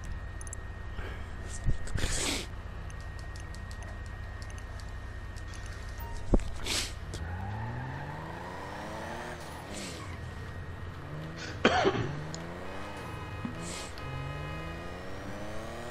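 Car engine and tires in the video game GTA V Online, with a steady low motor drone, rising revs and a few sharp hissing bursts like air brakes, moderately close, no talk.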